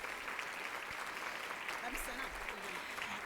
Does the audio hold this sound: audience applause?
yes